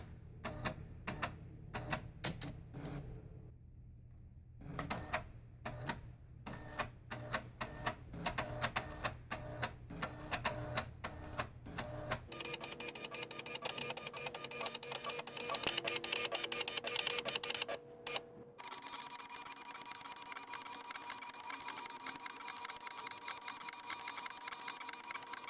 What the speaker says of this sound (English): So when I turn the printer on, this thing should come on